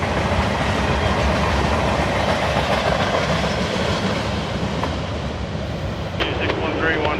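A loaded CSX phosphate unit freight train rolls past in Florida near Ocala, a loud continuous rumble and roar with rhythmic wheel clatter, steady throughout and easing slightly toward the end.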